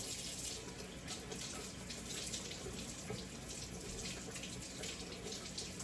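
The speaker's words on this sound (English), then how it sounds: "just rinse them off real good because you don't know where these potatoes came from" Tap water runs steadily into a sink as potatoes are rinsed under it, a continuous broad splashing hiss at low level with no speech.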